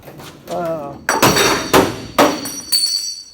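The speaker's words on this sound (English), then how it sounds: "pay no attention to this metal crashing" Metal parts crash and clang in a workshop where carburetors are handled, with several sharp, loud, ringing impacts in quick succession and a voice speaking briefly before them.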